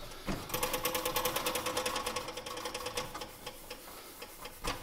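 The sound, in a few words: polishing the metal edge of a 1920s cook kit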